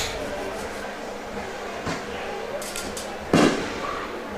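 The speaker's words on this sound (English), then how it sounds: "Yeah, they're popping their fireworks off, but it may be premature." Fireworks popping at a football game between the Redskins and Southside, heard as scattered distant pops with one sharper, louder burst midway, over a murmuring crowd and faint talk.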